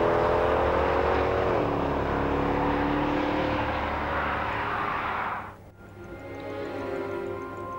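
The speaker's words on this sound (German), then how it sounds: "Unter seiner Haube brodelt ein V8 mit 457 PS" A Mercedes C63 AMG with a 457-horsepower V8 revs loud and close, its tone dipping then holding a steady roar before a sudden lift-off and a fresh climb in revs.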